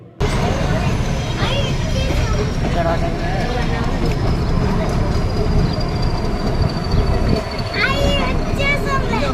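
Mountain train on the Mettupalayam to Ooty line running steadily, a loud continuous rumble with rhythmic rail clatter and occasional squeals, while people talk over it throughout.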